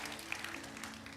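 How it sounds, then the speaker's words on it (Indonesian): A church congregation claps briefly and faintly during a service, a soft scattered patter of hands heard at a distance. "Berikan tepuk tangan buat Tuhan."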